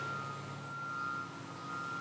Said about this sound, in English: Backing up to the ever-growing pile, the trucks disgorge their contents